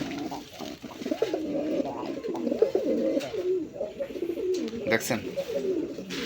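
Deshi Rajgola pigeon cooing in repeated low, throaty rolls close by, steady throughout, with someone speaking briefly over the calls.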